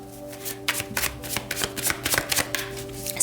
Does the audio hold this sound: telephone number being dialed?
no